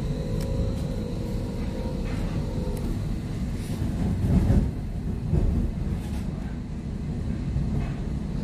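A passenger train heading toward Berlin Ostbahnhof rumbles steadily from inside the carriage, a constant low roar with faint rattles and swells, heard alone without talk.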